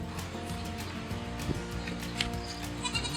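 A young buckling goat bleats in short, wavering cries close by, with faint shuffling and animal movement in the background.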